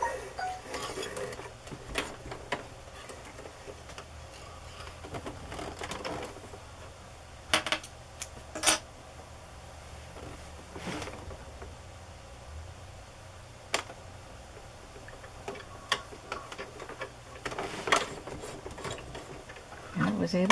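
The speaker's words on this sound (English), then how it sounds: "to wind a bobbin." A vintage sewing machine winds a bobbin with a soft, steady mechanical whir beneath faint room noise, broken by a few sharp clicks and taps.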